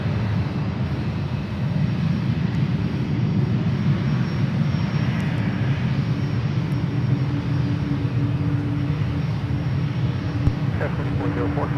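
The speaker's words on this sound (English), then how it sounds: "a couple more landings happening over on the 28s" An airliner lands on runway 28 at San Francisco airport, a steady, loud, broad engine roar that holds evenly throughout, with a voice talking over it.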